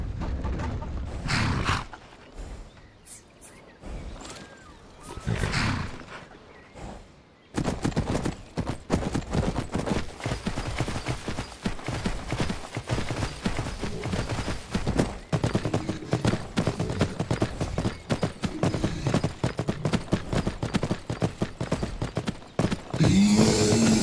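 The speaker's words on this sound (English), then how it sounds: "After talk to Grosta, Carlotta jumped on her horse and following road to Riften, she headed up to Broken Helm Hollow." Horse hooves in Skyrim clop steadily along a hard road in a quick rhythm, with a short pause and faint creaks before the trotting resumes.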